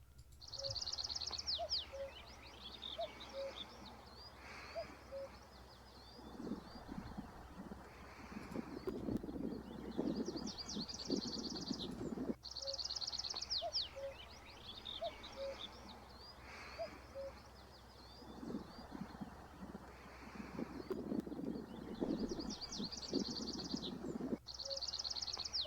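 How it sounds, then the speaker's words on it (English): Tree pipit song rings out in repeated phrases, with a willow warbler singing softly in the background, set against wind noise and some low rustling. "so you'll get to hear the tree pipit song"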